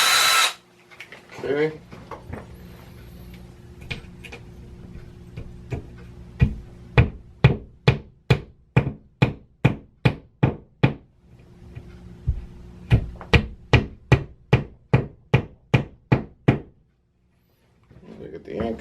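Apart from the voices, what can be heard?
drilling and hammering anchors into a wall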